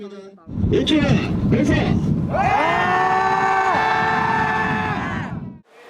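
A group of students lets out a loud, sustained collective shout while heaving a small rubber boat onto their shoulders during training, the cry swelling after a few short calls and holding for about three seconds.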